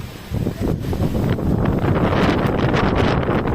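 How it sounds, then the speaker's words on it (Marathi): Strong stormy wind in a village during a sudden unseasonal rainstorm, a loud continuous roar buffeting the microphone with gusting rumble and rustle throughout. "एवढं भयानक वारं सुटतंय बघू शकता"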